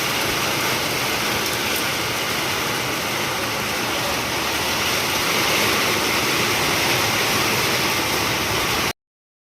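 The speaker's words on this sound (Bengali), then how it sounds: "বৃষ্টি নেমে গেল।" Rain falls outdoors on a road as a dense, even, broadband hiss that holds steady and loud, then stops abruptly.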